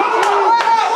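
A wrestling crowd at a tag team championship match chants loudly in unison across the whole moment, rhythmic voices with a few sharp bursts of cheering and clapping rising through the sustained roar.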